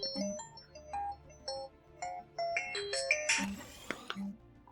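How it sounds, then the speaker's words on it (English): A mobile phone ringtone plays as a bright melody of chiming electronic notes in short phrases, close and fairly clear over a faint background. "Sorry about that, that was my phone."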